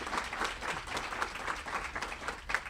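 Audience applause for the candidates at the close of a Yonkers mayoral debate, a continuous, even wash of many hands clapping at moderate distance, fairly quiet and steady throughout.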